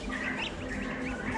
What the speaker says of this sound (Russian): гусики.